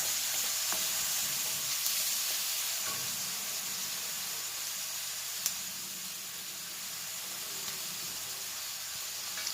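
Rice vermicelli noodles stir-fry in an oiled pan with mushrooms and vegetables, giving a continuous, bright sizzling hiss at close range with a few faint scrapes and one small clack.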